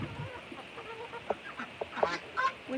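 A backyard pen holds a mixed poultry flock of five turkeys plus Crested Cream Legbar and Amberlink chickens, giving scattered short calls and clucks at moderate distance over a quiet background.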